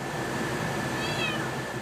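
A cat inside a pet drying box gives a single short meow partway through. The blower's steady airflow hum runs underneath it the whole time.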